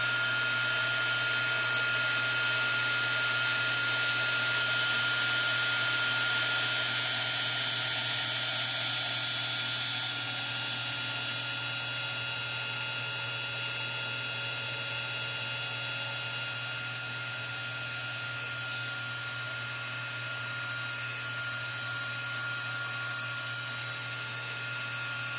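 A heat tool blows continuously while it dries embossing powder on a gourd, a loud steady whine and rush that fades a little toward the end.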